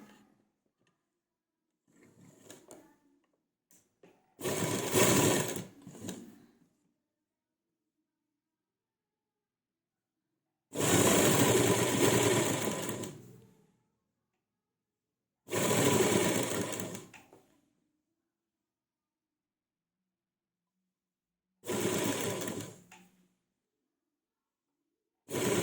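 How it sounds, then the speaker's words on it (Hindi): A sewing machine stitching piping onto a round neckline, heard in several separate bursts of a few seconds each, separated by silent pauses, close and clear. "पाइपिंग हम इस तरह से रखेंगे, जहाँ पर निशान लगा है वहां से रखकर हम सिलाई लगाना स्टार्ट करेंगे।"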